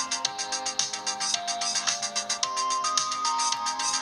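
An electronic beat track made in GarageBand plays loud and alone, with a steady pulsing rhythm under layered synth melody notes that shift pitch partway through.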